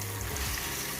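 Jamaican-style corned beef sizzles and fries in a pot over low heat, a steady, fairly quiet crackling hiss with faint stirring and no voices.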